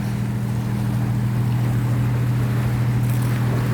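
A boat's engine drones steadily offshore, a low continuous hum with faint wind and water wash behind it, brief and unchanging.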